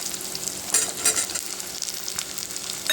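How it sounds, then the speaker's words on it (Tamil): Sliced onions sauté in hot oil in a pan for a brinjal kara kuzhambu. A steady close sizzle runs throughout, broken by repeated scraping stirs, with no one talking. "இப்போ நம்ம போட்டுக்கிற பெரிய வெங்காயம் வந்து ஒரு 2 நிமிஷம் நல்லா நான் வந்து வதக்கி விட்டாச்சு."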